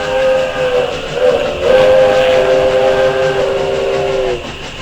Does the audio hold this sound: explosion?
no